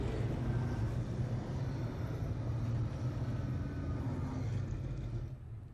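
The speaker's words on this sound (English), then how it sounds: "Beautiful rumble of these V8 monsters" V8 saloon race cars rumble at a New Zealand Saloon Championship race, a deep, sustained engine roar from a moderate distance that holds steady before easing off at the end.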